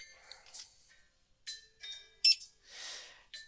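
Short electronic beeps from scanning a player's QR code during a shop-themed board game, a handful of faint, separate chirps spread out with quiet gaps between them.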